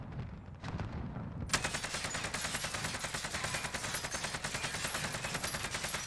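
AK-47 automatic fire in Call of Duty Cold War comes as a long, loud, steady stream of rapid shots, close and continuous, after a brief quieter opening.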